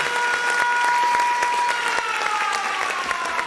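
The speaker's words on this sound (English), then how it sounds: "So we're gonna give you a round of applause for that." Audience applause after a song at a live music review show, a steady dense wash of clapping that runs throughout at moderate loudness with a faint tonal hum underneath.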